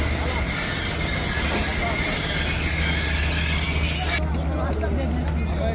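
Busy railway station with the Khyber Mail, a Pakistan Railways AC sleeper service between Rawalpindi and Karachi: loud, steady rumble of train and rail noise with screeching wheel tones, a crowd murmuring throughout, the high hiss dropping away near the end.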